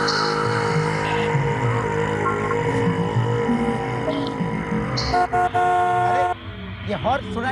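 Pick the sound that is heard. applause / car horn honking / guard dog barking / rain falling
car horn honking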